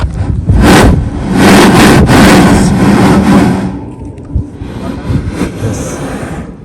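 Sea waves surging through a blowhole at Marneef Cave near Salalah, Oman, sending loud roaring whooshes in several bursts, then fading to a lower rush.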